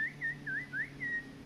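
Faint whistled language from Guyana, heard from a distance: a soft series of four or five short pitched whistles, some rising and falling, over a low background hum.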